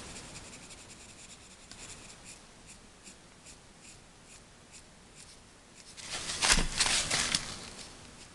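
Inktense coloured pencil strokes scratch softly across paper, a faint steady rasp that swells into a louder, brisker burst of scribbling near the end.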